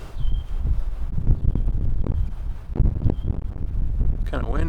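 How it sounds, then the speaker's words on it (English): Gusty wind buffets the microphone in low, rumbling bursts, with a person speaking intermittently underneath. "Kind of windy."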